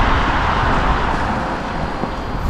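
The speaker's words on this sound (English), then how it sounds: "I don't know if you can hear that, but the rain is now coming down." Rain pours onto a street in Maidenhead during a thunderstorm, making a loud, steady broadband hiss that runs unbroken throughout, with no voices.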